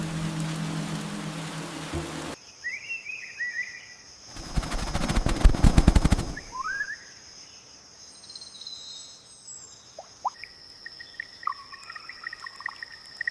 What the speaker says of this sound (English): Rain returns, turning every branch into a slippery crossing.